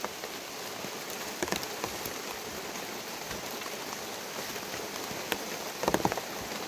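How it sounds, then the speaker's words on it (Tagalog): Rain falls steadily in the mountains, a constant soft hiss with scattered louder drips and patters of drops hitting nearby surfaces, no voices present. "Ang hirap. Ang ulan-ulan pa."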